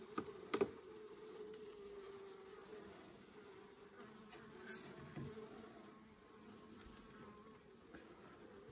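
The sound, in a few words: honeybees buzzing in a mini mating nuc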